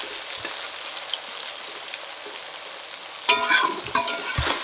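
Potatoes fry in a pan with salt and turmeric in a village kitchen, a quiet steady sizzle broken near the end by loud scraping stirs of a spatula.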